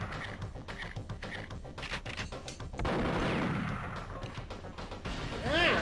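A bomb going off in the video game Perfect Dark on the dataDyne Central level, a loud rumbling blast that swells and slowly fades, preceded by rapid clicks and game sounds, with voices talking.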